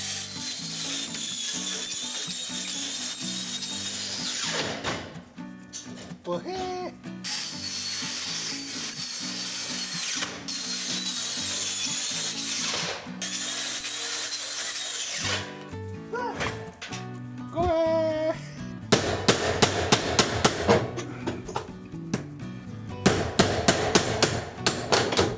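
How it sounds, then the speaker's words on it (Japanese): Carpenters strip off steel roofing sheet during a house extension, with bursts of metallic scraping, creaking and ratcheting clanks separated by short pauses, growing into sharper, louder banging and rattling toward the end. "とにかく鉄板をめくってきます"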